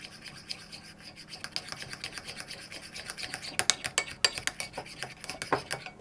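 A utensil scrapes and rubs against a bowl while stirring pink strawberry cream cheese tart filling, a quiet rhythmic scratching that grows denser and sharper toward the end.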